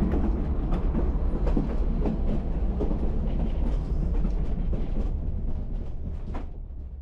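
A train on the Skagway railroad rumbles past with a heavy low roar and steady clickety-clack of wheels on rail joints, loud and close before easing slightly toward the end, with no voices.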